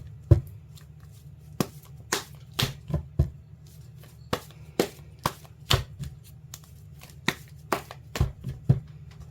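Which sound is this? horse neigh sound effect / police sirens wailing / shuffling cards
shuffling cards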